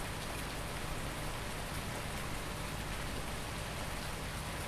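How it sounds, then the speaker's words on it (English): Steady rain in Farming Simulator 19 pours down in an even, hissing wash, constant and moderately loud with no voices or other sounds. "My bale over there, in the rain."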